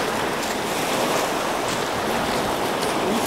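Ocean surf at high tide during a very large spring tide on the coast at Ambleteuse, a steady broadband wash of breaking waves rolling continuously with a light wind rush, nearby and fairly loud, with no talk.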